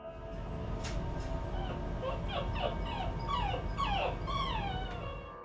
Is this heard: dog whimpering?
yes